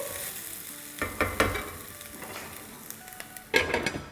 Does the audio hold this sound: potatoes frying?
yes